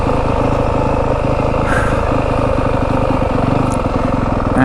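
A four-stroke Yamaha WR250F dirt bike descends a rough Arizona desert mountain trail on engine braking, its motor loud and close in a steady, unbroken drone with no one speaking.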